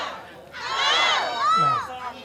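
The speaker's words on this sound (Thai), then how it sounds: "จะมีเสียงกรี๊ดอยู่ข้างผู้บรรยายนะครับ" Spectators at a Legend FC women's fight event in Thailand shriek and cheer in a loud, rising burst of high-pitched screams that swells twice and then fades slightly.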